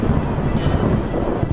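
Deep rumbling thunder from storms over the Serengeti and Mara plains, a loud, rolling low roar that persists briefly without a break.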